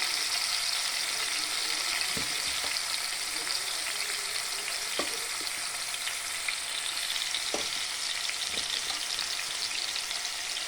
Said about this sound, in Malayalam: ഇത് കുറേ ചിക്കൻ ഉണ്ട്, നമ്മളെല്ലാം കൂടിയാണ് പൊരിക്കുന്നത്.